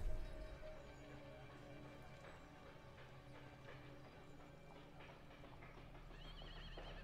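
A horse neighs faintly in a video game, over a constant dense background of game ambience with scattered soft clicks.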